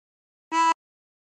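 A brief blown note on hole 7 of a 16-hole tremolo harmonica, a quick close reedy tone with a faint tremolo waver, lasting about a quarter second before silence.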